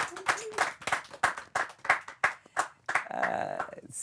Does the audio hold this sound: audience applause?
yes